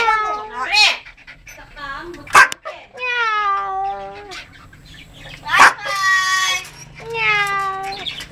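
A pet mynah bird imitates a cat's meow in several bright, wavering meow-like calls separated by short gaps, close and fairly loud, with a person speaking softly between them.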